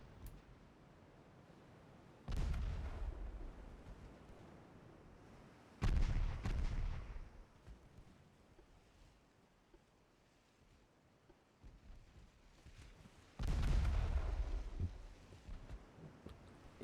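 Naval 6-inch guns fire in a 1913-era warship strategy game, three separate heavy booms spaced several seconds apart, each with a rumbling decay over low ambient sea noise.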